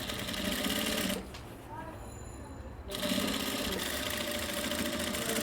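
Sewing machine stitching over a kurti coat collar seam, running in a steady close whir, pausing briefly in the middle before resuming; a person talks over it.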